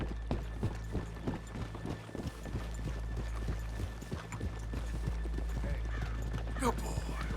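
Steady clip-clop of several horses walking on a hard surface in the video game Red Dead Redemption 2, hooves close and rhythmic, with a background hum and a brief snort near the end.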